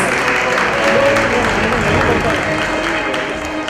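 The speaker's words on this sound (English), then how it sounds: "A big round of applause, please." An audience at an awards night in Bengaluru claps in a sustained, crowded wash of applause that stays fairly loud throughout, with crowd murmur mixed in.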